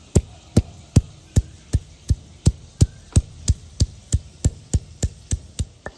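A piece of ginger is pounded into paste for a prawn and pointed gourd curry, about seventeen sharp, evenly spaced thuds in a steady rhythm, close and loud, with no talk.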